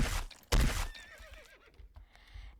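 A horse in the video game Dead Rails neighs in a loud, close whinny after a burst of hoof clatter and noise, then the sound fades into faint rustling.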